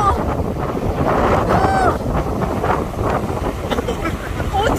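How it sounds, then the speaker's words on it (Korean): Strong wind gusts buffet the microphone near Takakkaw Falls in Yoho National Park, British Columbia, a steady loud roar with rushing spray and faint voices underneath. "지금 바람도 많이 불고"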